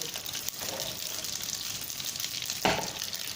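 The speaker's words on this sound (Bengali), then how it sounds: "একটু নাড়াচাড়া করে ফোড়নটাকে ভেজে নেব।" Whole spices such as fennel, nigella, mustard seed, dried red chilli and bay leaf frying in hot oil in a pan, giving a steady close sizzle with a brief louder crackle as they are stirred.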